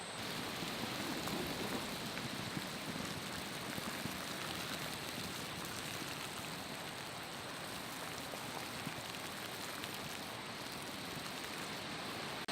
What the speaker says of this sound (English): Alright, we're at a really good boil right now.